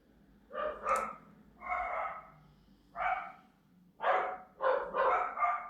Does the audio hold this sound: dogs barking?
yes